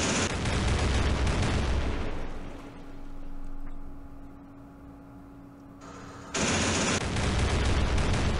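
Anti-aircraft guns firing in the Campaign Series Middle East war game: a loud, dense burst of rapid fire that fades into a quiet lull with a steady hum, then resumes abruptly near the end.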